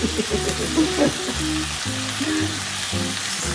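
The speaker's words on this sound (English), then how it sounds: "You want to really saute this and get it really hot" Food sautés in a very hot pan for cornbread dressing, giving a steady close sizzle and crackle beneath a loud, low tonal hum, with no talking.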